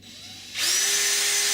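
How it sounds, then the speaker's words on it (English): A power drill with a 2.5 millimetre metal bit bores a pilot hole through a PVC door frame, starting with a sudden loud high whine that holds steady to the end. "you firstly drill a pilot hole through the PVC in both places"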